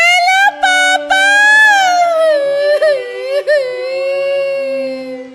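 A girl cries over the telephone in a long, high, wavering wail that rises and falls with brief catches of breath, loud and close.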